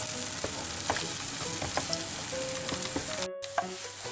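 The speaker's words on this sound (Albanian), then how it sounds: "Vendosim vezën për ta skuqur dhe e përziejmë vazhdimisht." Beaten egg frying in hot oil in a pan while being stirred continuously, a steady close sizzle with scraping spoon strokes and a brief clatter near the end.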